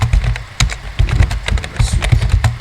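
Loud, close typing on a computer keyboard during web development work, dense irregular clacks with heavier thumps in quick succession, continuous through the moment with no voices.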